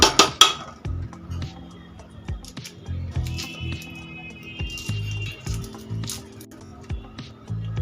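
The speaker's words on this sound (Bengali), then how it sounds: "এবার খোসাটা ছাড়িয়ে নেব।" Shells come off boiled eggs cooled in cold water with light cracks, clicks and small crinkling taps, close up and irregular, under a low steady hum.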